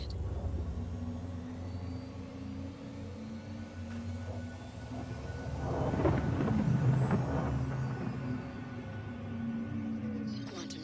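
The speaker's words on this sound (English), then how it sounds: "Quantum Drive activated." Quantum drive travel in the space game Star Citizen aboard a 600i ship, a steady deep engine rumble and hum that swells around the middle, with a brief higher whine near the end.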